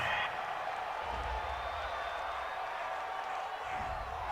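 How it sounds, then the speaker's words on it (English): A stadium crowd in the Madden 20 football video game cheers a penalty call with a broad, steady roar of applause and noise that holds evenly throughout. "This home crowd, they're happy with that call."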